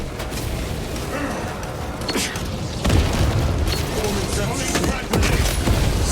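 A melter bomb goes off in Warhammer 40000: Space Marine 2 with heavy booming blasts and rumbling bursts over continuous battle noise, and a voice speaks over the action.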